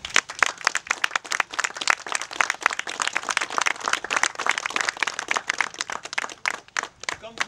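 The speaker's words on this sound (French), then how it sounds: "Ils méritent bien nos applaudissements." Chapel congregation clapping for restoration volunteers, dense sharp hand claps in a lively burst, close and fairly loud, with some scattered voices mixed in.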